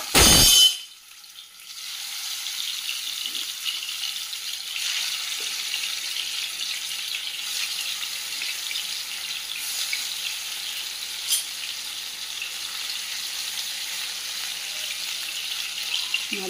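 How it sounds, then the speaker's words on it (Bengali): Pieces of rohu fish fry in hot mustard oil in a pan, giving a steady, even sizzle and crackle that continues throughout after a brief louder burst at the start. "এর মধ্যে দিয়ে দিচ্ছি সর্ষের তেল"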